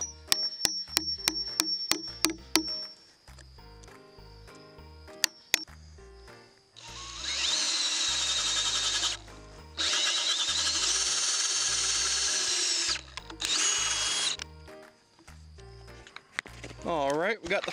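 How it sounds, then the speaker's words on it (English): Power drill with a 3/4 inch threaded paddle bit boring a hole into a log for a log workbench: a few sharp taps, then several loud, sustained whirring bursts close by, separated by brief pauses. "next step is drilling the hole"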